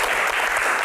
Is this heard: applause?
yes